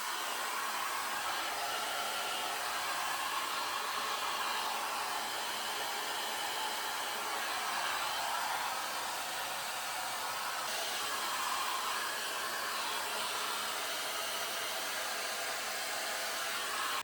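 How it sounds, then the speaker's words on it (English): A hair dryer fitted with a diffuser blows steadily and loudly while drying hair after Velcro rollers, a constant broadband whoosh with only slight swells throughout and no talking. "go through with my diffuser and just like make sure everything is completely dry"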